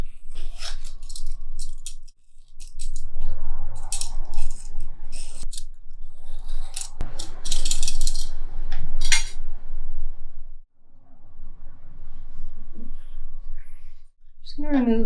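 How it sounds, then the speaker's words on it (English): Small pears being peeled with a peeler for a pear and almond tart in a home kitchen, heard as repeated close scraping strokes with clinks of utensils, broken by brief pauses. "So we're just gonna peel the pears first."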